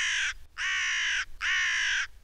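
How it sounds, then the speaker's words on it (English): Cartoon crows give three loud, harsh caws in quick succession, each drawn out and evenly spaced, with no talking. "And those cheeky birds just love to eat them."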